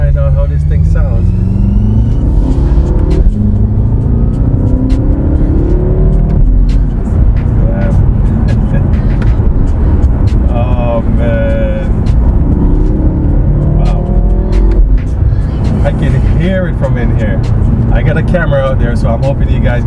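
A BMW F10 M5 fitted with a cold air intake revs hard in repeated rising pulls, its engine note climbing and falling loudly and close under a continuous roar, with a voice talking over it.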